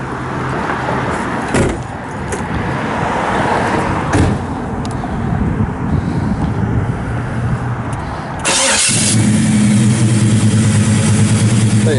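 A 1967 Chevrolet Chevelle SS 396 starts up, with a sharp crank catching near the 8.5-second mark and settling into a loud, steady rumble after some earlier clatter and engine noise.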